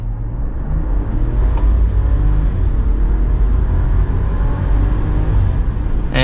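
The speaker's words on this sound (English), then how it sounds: "And with the high output engine, pedal to the floor." A 2025 Ram 1500 Crew Cab 4X4 Limited pickup's high-output engine pulling hard at full throttle, a deep steady roar that rises in intensity, heard from inside the cab with no talking.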